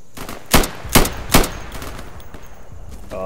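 Three loud gunshots ring out in quick succession in the tactical shooter game Insurgency, followed by fainter scattered shots and clatter in the background.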